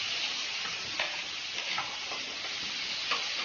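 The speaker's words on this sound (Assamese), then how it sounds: "পিঁয়াজখিনি অলপ ভাজি ল'ম।" Onions fry in hot oil with a steady, close sizzle and crackle, and a few faint stirring scrapes break through the hiss.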